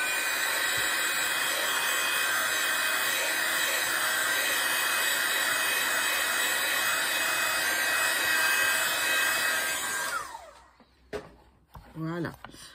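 A heat gun blasts steadily while drying watercolor paint on a painting of a cherry blossom, a loud continuous whoosh for about ten seconds before it cuts off and a voice follows.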